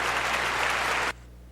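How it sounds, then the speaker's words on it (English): A dense round of applause from an audience, loud and steady, then stopping abruptly just after one second, leaving a quiet hum. "let's give a round of applause"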